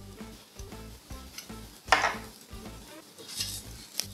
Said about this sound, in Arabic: نقلبه.